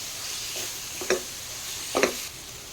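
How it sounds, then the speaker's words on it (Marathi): Potatoes, peas and peanuts being mixed in a pan for masale bhaat, a soft background sizzle broken by a few brief scraping stirs, quiet and close. "वाटाणे आणि शेंगदाणे टाकून घेते व्यवस्थित मिक्स करून घ्यायचं आहे"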